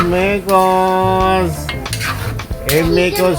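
A metal spoon clanks and scrapes loudly inside a cooking pot as onion and pork are stirred together for sinigang, with continuous close clattering over a sustained tonal sound.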